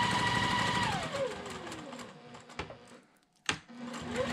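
Domestic sewing machine stitching quilt fabric for a mitered border, a steady whirring run that slows and stops, then a brief backstitch burst and a short resumed run, close and fairly loud with no talk.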